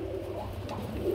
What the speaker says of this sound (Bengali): এক জোড়া রাজগোল্লা কবুতর রয়েছে সিলভার কালারের মধ্যে